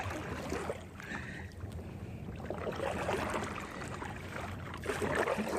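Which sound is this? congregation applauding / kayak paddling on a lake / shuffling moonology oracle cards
kayak paddling on a lake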